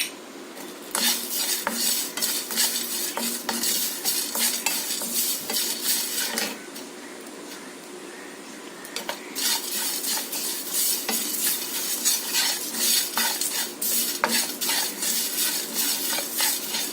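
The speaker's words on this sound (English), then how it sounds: "Now switch off the flame because the pan is hot, so it will get roasted fully. Just keep on stirring." Mint and curry leaves roast in a hot pan as a utensil stirs them continuously, giving a dense run of metallic scrapes and clatters over a soft sizzle, with a short quieter pause midway; no talking.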